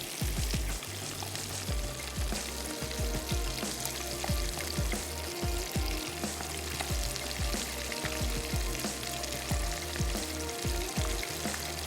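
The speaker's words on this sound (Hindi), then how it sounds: "फ़िश को पहले आंच थोड़ी सी हल्की करें और जब अच्छे से गलना शुरू हो जाए तो उसके बाद हल्की सी तेज़ करके आप उसको क्रिस्पी कर लें।" Fish fries in hot oil until crispy, a steady dense sizzle with constant popping and crackling, close and fairly loud throughout with no voices.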